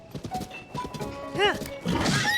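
A horse in the Tears of the Kingdom video game gives a clear whinny midway, with hoof clops before it and a voice talking over much of the clip.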